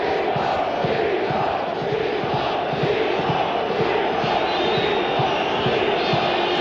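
German football crowd in Berlin at a Euro 1996 international match, a loud sustained roar of cheering and chanting filling the stadium.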